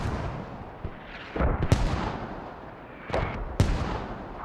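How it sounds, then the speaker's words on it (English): Mortar shells land in the tactical shooter Squad during a competitive match: a few heavy, distant-sounding booms arrive in two clusters over steady battlefield rumble, with no talking. "Mortar's landing and getting some really good shots."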